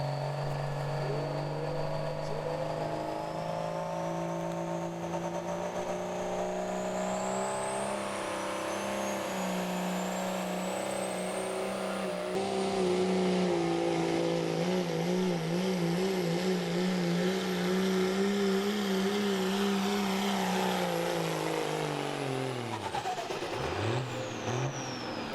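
A big-block 4x4 truck's engine roars continuously through a truck-pull run, holding a loud, strained drone that climbs and wavers, then sags and drops off at the end as it runs out of power.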